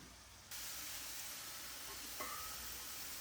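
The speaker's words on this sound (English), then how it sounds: "We're gonna take the tails off our shrimp, get those frying." A steady sizzling hiss of shrimp frying in a pan begins abruptly and continues evenly, with a brief clink partway through; no voices.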